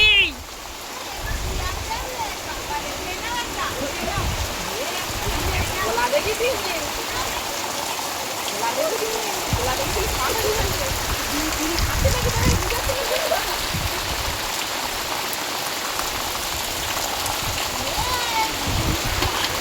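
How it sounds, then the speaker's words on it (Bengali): Heavy rain pours down in a steady, dense hiss across the whole stretch, with voices talking over it now and then. "ওরে বাবা, এই কি বৃষ্টি!"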